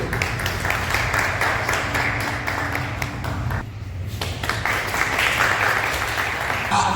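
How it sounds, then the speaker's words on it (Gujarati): Audience clapping at a senior citizens' trust gathering in Mahudha, with steady applause from many hands filling the room and continuing for several seconds, a brief dip midway, and faint voices underneath. "હમણાં તાળી પડી જાય."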